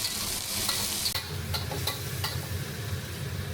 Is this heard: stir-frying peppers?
yes